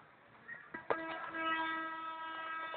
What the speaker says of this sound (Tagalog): Uy, may tren.